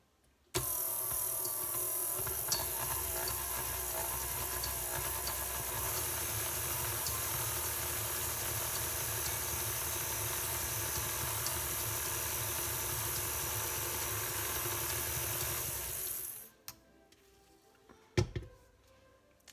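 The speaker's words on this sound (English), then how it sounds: "we're going to blend the oil and the sugar together right now" An electric mixer blends oil and sugar for chocolate cream cheese cupcake batter, a steady whirring motor hum running continuously for about sixteen seconds before cutting off, followed by a couple of faint clicks.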